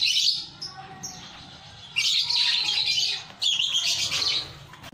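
Two abandoned lovebird chicks give bursts of high, thin chirping cheeps in short repeated clusters, fairly close, with quiet gaps between the calls.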